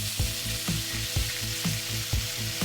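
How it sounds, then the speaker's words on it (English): Fried beef and potatoes stir-fry in a hot pan, giving a steady, loud close sizzle broken by regular tossing scrapes about twice a second, with no talking. "Now toss in the fried beef and potatoes. Mix these around for another 10 seconds"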